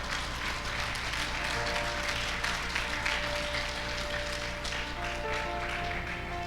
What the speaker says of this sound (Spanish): aplauda al Señor y hágalo fuerte